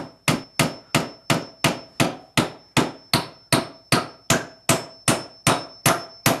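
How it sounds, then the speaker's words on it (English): Hammer striking nails into wood, about fifteen sharp, evenly spaced blows with a short ringing decay, loud and close with no talk. "I always hammer nails crooked."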